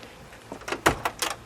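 A 1966 Oldsmobile Toronado door unlatching and swinging open, a short series of clicks and mechanical thuds, close by and moderately loud.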